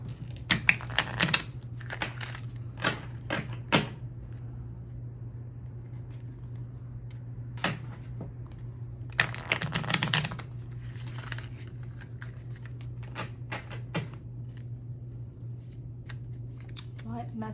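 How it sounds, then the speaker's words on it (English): Tarot cards are shuffled in quick bursts of riffling and slapping, close and fairly quiet, with pauses between the bursts and a steady low hum underneath. "Guess I shuffled too hard."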